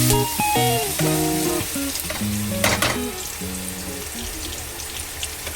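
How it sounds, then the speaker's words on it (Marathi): Onion-tomato puree fries in a pan for paneer masala gravy, bubbling and sizzling steadily up close while a spoon clatters and scrapes a few times and tonal clinks ring out, no speech. "ही प्युरी आपल्याला चांगली भाजून घ्यायची आहे या पद्धतीने।"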